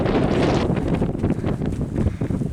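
Gusty wind buffets the microphone at a white, blustery West Virginia mountain lookout, a loud, rumbling roar that surges and dips unevenly throughout, with no voices.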